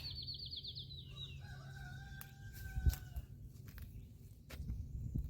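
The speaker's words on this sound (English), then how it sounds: "Look at the chicken in there." A rooster crows in the background amid outdoor ambience, followed by scattered rustling and light footsteps.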